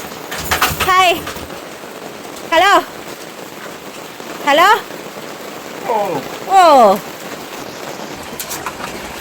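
Heavy rain pours steadily on the surroundings throughout, a dense continuous wash, with several short bird calls or human voice bursts rising over it at intervals.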